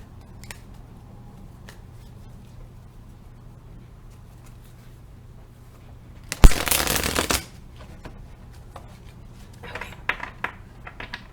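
A deck of glossy advice cards being shuffled by hand, one loud riffle burst in the middle with softer card flicks and taps before and after, close up in a quiet room.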